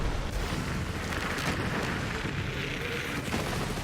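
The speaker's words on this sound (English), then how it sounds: "That was short fuse there when you saw that explosion" An explosion in the video game Borderlands 3 rumbles through a noisy, dense wash of low booming and crackling, fairly quiet overall with short bursts of impact layered into the din.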